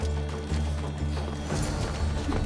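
Horse hooves clop in a steady, fast rhythm in the video game Assassin's Creed Odyssey, a continuous galloping beat over low game ambience with no talk.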